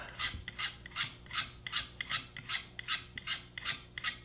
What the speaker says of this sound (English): Tip this one up, put it on the corner of the sharpener, and slide, just like that.